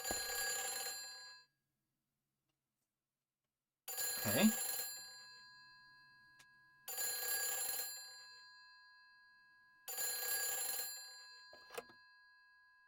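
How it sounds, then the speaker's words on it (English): A telephone rings in the horror video game Silent Hill 3, three long electronic rings separated by pauses, loud and alone, with a brief spoken word between rings. "There's a phone."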